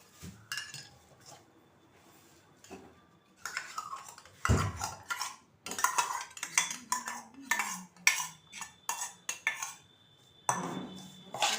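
A spoon scrapes and clinks against a metal bowl in irregular bursts while curd is stirred into food, with quiet pauses between bursts of mixing.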